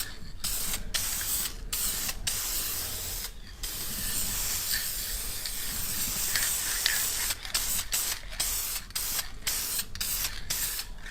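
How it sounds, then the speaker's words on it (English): Aerosol spray can coating the back sides of parts for a Subaru Sambar mini truck, heard up close as a string of short hissing bursts broken by brief pauses, with a longer steady spray in the middle. No one speaks. "Now I only want to spray the back sides of these"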